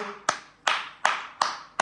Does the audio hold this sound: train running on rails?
no